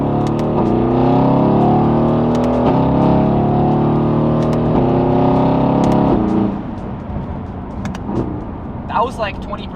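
A Mercedes-AMG GT S engine revs at light throttle, rising in a few loud, close bursts that climb in pitch before easing off. Quieter background noise and brief clicks follow.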